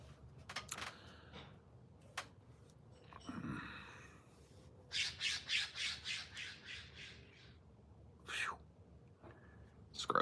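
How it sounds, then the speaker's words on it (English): Harsh, raspy squawks of a scrub jay, first scattered, then a rapid series of six or seven calls, close and fairly loud, with quiet background. "Scrub Jays are so loud."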